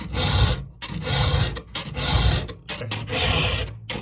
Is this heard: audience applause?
no